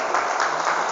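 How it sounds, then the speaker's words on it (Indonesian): A school audience at an anti-bullying motivational seminar at an Islamic high school applauds in a brief, loud, dense wash of many hands clapping together. "Tepuk tangan untuk kita semua people."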